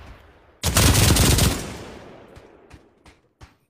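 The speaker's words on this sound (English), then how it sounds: "I got the MG34." An MG34 machine gun in the game Pavlov lets off a sudden loud sustained burst lasting about a second, followed by several sharp single shots spaced apart as the echo decays.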